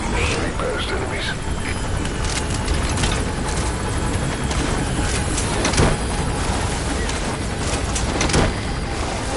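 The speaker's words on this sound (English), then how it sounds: "That's an enemy gunship." A loud, continuous enemy gunship helicopter from Metal Gear Solid V: The Phantom Pain, its heavy rotor and engine drone steady throughout over game ambience, with talk faintly mixed in.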